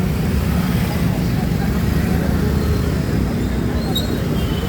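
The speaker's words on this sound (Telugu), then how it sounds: "ట్రాఫిక్ అయితే చాలా అంతరాయం కలుగుతుంది చూడొచ్చు" Diverted city road traffic streaming past, a dense, continuous rumble of engines and tyres at steady loudness, close by and unbroken for the whole stretch.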